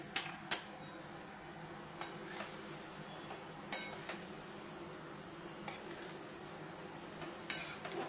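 A spoon stirring fenugreek greens with salt and turmeric in a pan, heard as scattered sharp metallic clinks and scrapes at irregular intervals over a soft, steady background hiss, with no talking.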